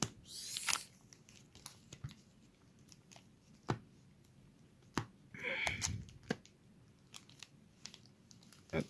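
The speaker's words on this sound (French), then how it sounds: "on va ouvrir Super C17 en premier." A Super C17 trading card booster pack being torn open: a short, sharp rip of foil near the start, then crinkling, crunching wrapper sounds and scattered taps and clicks, close and fairly quiet.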